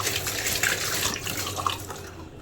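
Tap water runs steadily into a kitchen sink while dishes are washed during a festival kitchen clean-up, a continuous close splashing hiss with small clinks, no voices.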